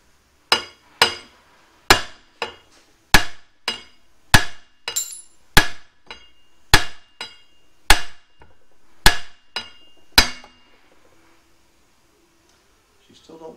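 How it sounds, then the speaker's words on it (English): Sharp metallic hammer strikes on the rear axle of a Ford 8.8 axle in a Crown Victoria ring out one after another, about a dozen blows at an uneven pace, each with a short clanging decay, then quiet. "We're gonna try and tap on the axle here with the hammer"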